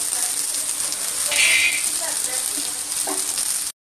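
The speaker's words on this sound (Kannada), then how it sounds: "ಈ ಸೈಡ್ ಈಗ ನೆಲಗಡಲೆ ಫ್ರೈ ಮಾಡೋಣ." Raw peanuts fry in a pan, a steady close hiss and crackle of hot oil throughout, with a brief louder burst of sizzle midway and faint stirring scrapes before it cuts off.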